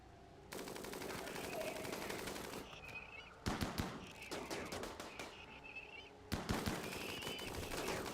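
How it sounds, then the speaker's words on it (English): Rapid automatic minigun fire in the video game Rimworld, sustained bursts of dense gunshots with brief pauses between volleys, loud and close, with no talking. "I love the minigun."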